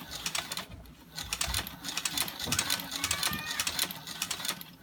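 Hand-cranked cobbler sewing machine back-stitching a handle onto a ski bag, giving a close, steady run of mechanical clicking and clattering with a continuous rhythmic chatter throughout.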